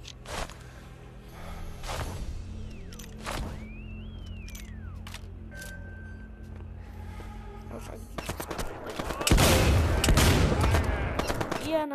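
Gunfire from a player's weapon in a World War II shooter video game, a burst of several sharp shots cracking through the opening seconds and a louder, denser stretch of firing near the end, with game sounds in between.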